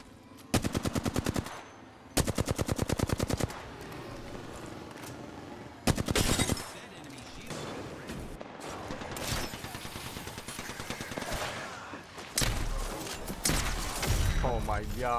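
Automatic weapons fire in short and long bursts during an Apex Legends match, loud and rapid, with impacts and other game effects between bursts while players talk over the action.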